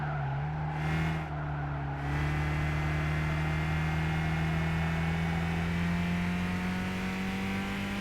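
A race car engine in Gran Turismo 5 holds a steady, rising drone through a gear change, a near and continuous whine with climbing pitch and brief dips early on.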